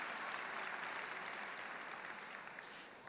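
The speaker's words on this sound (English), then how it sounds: "Yeah, that deserves clapping." A graduation audience at Lakeland Senior High applauds in a dense, sustained wash of clapping that fills the hall and begins to taper off toward the end.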